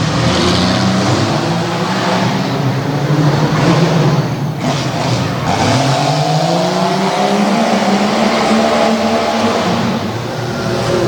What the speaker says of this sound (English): Love the sound of that green Jeep.